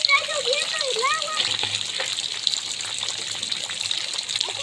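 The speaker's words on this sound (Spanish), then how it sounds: "¡Miren cómo está subiendo el agua!" Water gushes and trickles steadily into a bottle during a home bottle-filling challenge, with a continuous rushing flow and a voice chattering over the top near the start.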